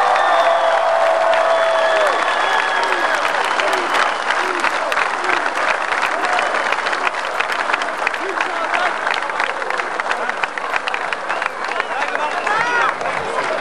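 Loud, sustained applause from a large crowd honoring the top teams from Novi Pazar, Sjenica and Tutin at the 40th jubilee Sandžak Games in Sjenica, 2003, with dense clapping and scattered cheers running throughout.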